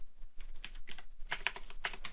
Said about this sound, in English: I'm going to type in update